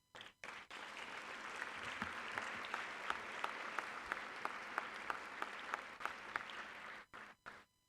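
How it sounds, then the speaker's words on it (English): A live audience applauds steadily for about seven seconds, a dense wash of clapping with individual sharper claps standing out, before it breaks off and trails into a few scattered claps. "We can give him a round of applause."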